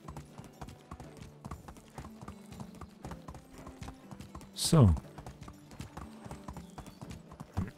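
A horse in the video game Medieval Dynasty clip-clops along steadily at a quick pace, with a louder whinny rising briefly partway through. Someone speaks softly at one point.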